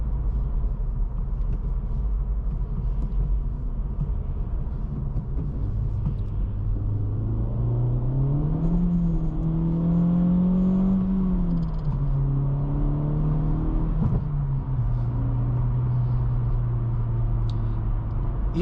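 A 2024 Acura Integra Type S engine hums under a constant road rumble, then its pitch climbs as the car accelerates on summer tires in cold weather, dips at a shift and settles into a steady drone.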